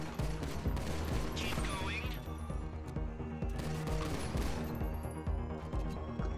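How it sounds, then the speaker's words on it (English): Rapid gunfire from a gun in GTA 5 during a Diamond Casino heist shootout, dense repeated shots and crashes layered over continuous game music and effects, loud throughout. "this gun sounds fucking good"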